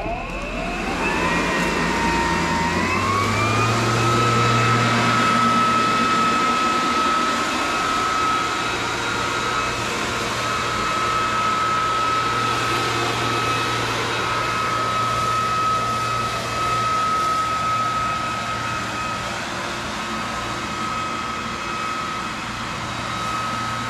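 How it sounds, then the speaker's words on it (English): A Ryobi 40V cordless backpack leaf blower spins up to turbo boost on a driveway, its whine rising within a few seconds to a loud, steady high-pitched roar that holds alone for the rest of the stretch. "We're gonna go ahead and blow off the driveway. I'm going to use the turbo boost."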